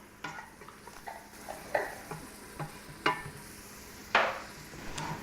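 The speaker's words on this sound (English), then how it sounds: "All the while you want to stir it, just to mix the ingredients up, keep them all blending well together." Minced garlic sizzling in a pot for a spicy chicken bean chili, with a spoon scraping and stirring at irregular intervals, close and fairly quiet, no talking.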